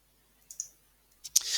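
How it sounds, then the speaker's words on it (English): A few computer mouse clicks while working on an image in Photoshop: two light clicks near the start, then a sharper pair close together, with a soft rustling tail at the end and no voices. "I'm going to click back on my previous image"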